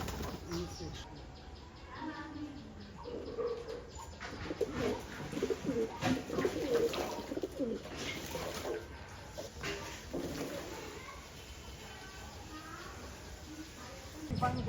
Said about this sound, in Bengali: এখানে জল দেওয়া হলো পায়রাগুলো চান করার জন্য, কি সুন্দর নেমে চান করছে।